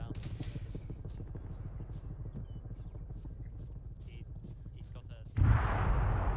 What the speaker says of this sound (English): They keep exploding shit over there.